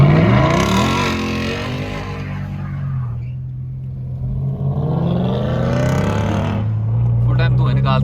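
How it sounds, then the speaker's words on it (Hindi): A BMW E60 M5 in M mode accelerating at full power, its engine a loud, continuous rising roar that swells and shifts pitch across the run, heard up close without talk. "और अब गाड़ी अपने फुल पावर में आ गई है।"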